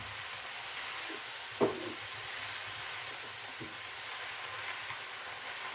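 Spinach greens sautéing in a pan give a steady, soft hiss throughout, with a single sharp knock from a utensil near the middle and a few faint bumps, no voices.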